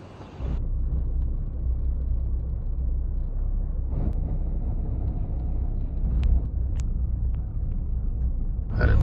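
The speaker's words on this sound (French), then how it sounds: "Le bus scolaire qui arrive." School bus arriving at a private school on the first day of term in Oman, a continuous low engine rumble with road and wind noise that stays steady throughout, close and loud, with faint clicks and no clear talk.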